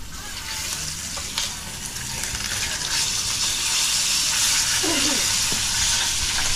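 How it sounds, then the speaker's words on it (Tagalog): Tilapia from Taal Lake in Batangas fries in hot oil with a loud, continuous, crackling sizzle that grows slightly stronger partway through. "Prito lang po tayo ng kuwan."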